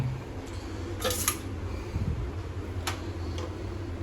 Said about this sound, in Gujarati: લાઇટર બરાબર હાલતું નથી.